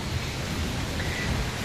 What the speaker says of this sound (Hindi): गाइस अभी बाहर बारिश हो रही है